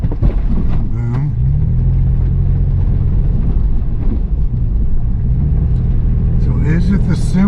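A Toyota FJ Cruiser on SumoSprings rumbles along an off-road trail in Moab, its engine droning loud and steady with a brief lull, while someone talks over it throughout.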